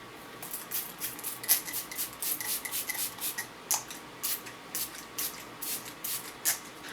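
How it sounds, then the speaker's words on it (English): Smashbox primer water setting mist sprayed onto a face in a run of quick, close, soft hissing spritzes with short gaps between them, alone with no talk. "I'm going to use a little bit of my Smashbox primer water"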